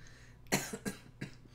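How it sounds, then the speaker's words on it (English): A person coughs during a live tabletop role-playing game session. The coughs come as a few short, raspy bursts close to the mic, with no talking over them. "he Actually coughs. actually coughs."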